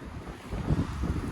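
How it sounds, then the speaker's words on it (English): Strong wind gusts buffet a microphone outdoors at Burgh on Bain, a loud low rumbling roar that swells and dips over a second or so, with no talking. "You have to excuse the wind because it is proper windy."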